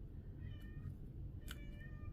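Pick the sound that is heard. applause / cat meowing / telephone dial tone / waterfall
cat meowing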